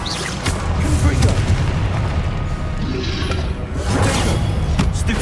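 A Confringo fire spell explodes in the Hogwarts Legacy video game, a dense, loud booming blast with sustained rumble and crackle, layered with battle effects and a shouted voice.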